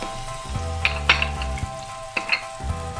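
Ground turmeric, Kashmiri chili, coriander and cumin sautéing in oil with softened tomato for a vegetarian dalna, a steady close sizzle broken by several sharp scrapes of a stirring spoon.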